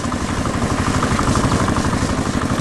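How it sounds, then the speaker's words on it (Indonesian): A red tractor engine works in a green cotton field on a farm, giving a steady, close, fairly loud mid-pitched engine drone with a throbbing rhythm that continues throughout, with no talk. "Lihatlah, traktor merah sedang bekerja keras di tengah ladang kapas yang hijau dan lebat."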